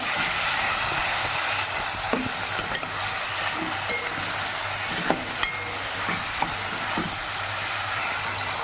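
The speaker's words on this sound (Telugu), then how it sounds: "పావు టీ స్పూన్ సాల్ట్, పావు టీ స్పూన్ పసుపు వేసుకొని ఫ్రై చేసుకోవాలి ముక్కలు బాగా" Chicken pieces frying in a pan with salt and turmeric, a steady loud sizzle with occasional stirring clinks and scrapes, continuous and close.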